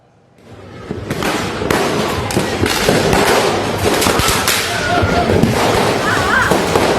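A dense barrage of firecrackers goes off one after another in a street firecracker war on Jalan Kerung-Kerung in Makassar. The blasts are loud, sharp and rapid, with crowd voices mixed in among them.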